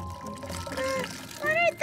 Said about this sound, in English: Now they're pouring the salty water into that long cylinder, starting with the most dense one.